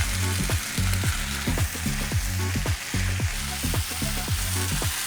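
Kniddelen, Luxembourgish dumplings, fry in a pan with a steady, close sizzle and repeated stirring or scraping in a loose rhythm, with no talking.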